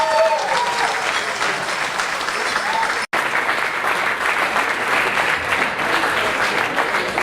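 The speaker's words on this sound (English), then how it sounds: "a nice round of applause for Mr. Serge Viola" Wedding reception guests applaud steadily and loudly from start to finish, a dense wash of many hands clapping with a brief cut in the middle.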